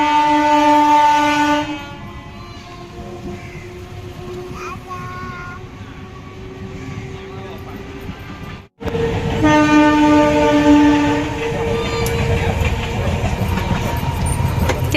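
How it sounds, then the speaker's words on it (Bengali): A train passes a level crossing with its barrier down, sounding long, loud horn blasts near the start and again later, with rolling rail noise between them. "রেলগেট পড়ে যাওয়া মানে অশ্মিও জানে যে ট্রেন আসবে"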